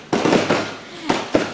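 A fireworks display goes off in a rapid cluster of sharp bangs and crackles, then pauses before two more loud isolated bursts, close and booming with no voices.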